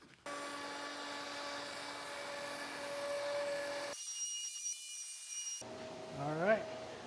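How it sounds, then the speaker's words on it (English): A handheld router fitted with a pattern-tracing bit trims excess plywood in a shop. A loud, steady, close whine runs for several seconds, then cuts off, and a brief squealing tail follows. No one speaks. "I'm going to take a router bit with a pattern tracing bit on it to just cut it out and trace around here to cut this excess off"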